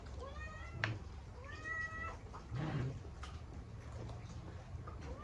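Several cat meows, some drawn out, sound at moderate distance through steady background noise on a rainy day during a fried chicken meal.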